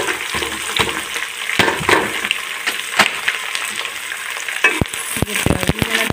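Chopped onions hit hot ghee with bitter gourd in the pan, frying with a bright crackling sizzle and repeated sharp spoon knocks and scrapes, loud and close with no one talking.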